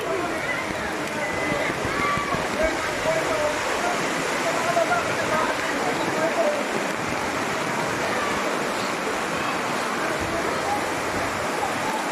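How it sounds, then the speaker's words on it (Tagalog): Heavy rain pours down during a flood, a constant dense roaring wash like rushing water that stays loud and unbroken for the whole stretch, with faint voices underneath. "Buhos ng ulan. Ang lakas."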